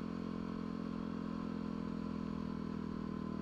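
A Yamaha WR250R dual-sport motorcycle engine idles steadily and loudly up close, a continuous throbbing drone with a light mechanical clatter and no talking.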